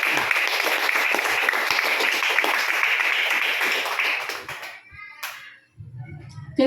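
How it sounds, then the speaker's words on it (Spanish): Church congregation clapping in steady broadband applause for several seconds, loud and sustained, then fading out into quieter room sounds. "Dele palmas al Señor Jesús."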